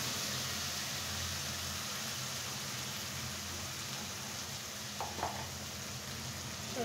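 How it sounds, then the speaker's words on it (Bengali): Spice paste for a fish curry frying in a pan, a steady close hiss and crackle of sizzling oil that runs unbroken, with a couple of faint clinks near the end. "এখন আমি খুব সুন্দর করে মশলাটা আগে কষিয়ে নেব, তারপরে বাকি উপকরণ দেব।"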